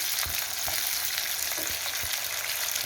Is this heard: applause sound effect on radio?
no